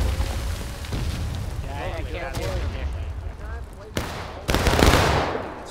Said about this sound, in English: Good volley.